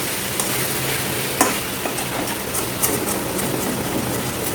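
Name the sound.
stirring masala in a pan over high flame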